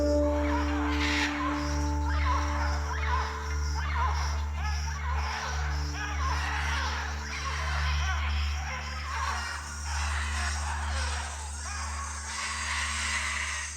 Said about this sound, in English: Colorful and loud, the scarlet macaw reigns over the Amazonian sky.